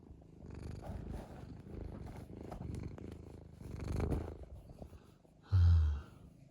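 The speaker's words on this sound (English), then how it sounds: "Listen to the purr." A cat purrs as a low, steady rumble for several seconds, close to the listener, with a louder burst of purring near the end.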